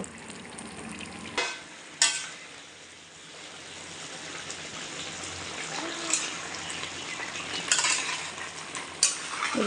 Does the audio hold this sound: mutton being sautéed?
yes